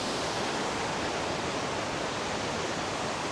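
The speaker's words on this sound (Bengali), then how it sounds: "এই যে আমার পিছনে সেই ঝর্ণাটা দেখতে পাচ্ছেন" The Jhorjhori waterfall on the Napittachora trail in Mirsarai pours as a dense, even roar of rushing water that stays constant and loud throughout, with no voices over it.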